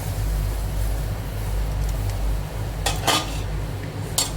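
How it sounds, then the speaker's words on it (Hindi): A besan and buttermilk mixture is stirred in a cooking pan over steady background hum, with a few sharp metallic scrapes and clinks of the spoon against the pan near the end. "और इसको चलाती रहती हूँ, क्योंकि ये फट ना जाए"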